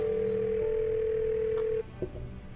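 A steady telephone dial tone plays in a Nancy Drew video game, Ghost of Thornton Hall, holding for nearly two seconds before cutting off, followed by a short click and faint handset noise.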